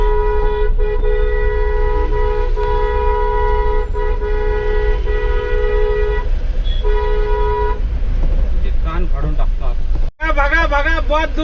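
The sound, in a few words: vehicle horn honking on highway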